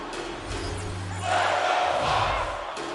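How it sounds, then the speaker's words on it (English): A virtual hockey arena crowd in NHL 2K24 roars steadily, swelling louder midway through, with a broad noisy din. "You can feel the energy in this crowd."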